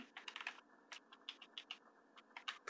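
Quiet, close typing on a computer keyboard, an irregular patter of quick key clicks in short bursts with brief pauses between them.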